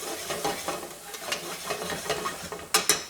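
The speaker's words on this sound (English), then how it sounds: "So those are sauteing down." Cabbage greens seasoned with salt and pepper sautéing in a pan, with a steady close sizzle and irregular stirring scrapes and a couple of sharp clinks near the end, no voices.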